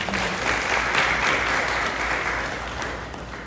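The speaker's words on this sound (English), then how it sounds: "a special round of applause for Corinne" A graduation ceremony crowd applauds a graduate, a thick, sustained wash of clapping that holds steady and then eases slightly toward the end, with no voices over it.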